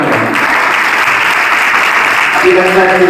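Applause from an audience at a Brahma Kumaris Mahashivratri festival program in Shahabad Markanda, loud and steady throughout, with a voice speaking over it near the end.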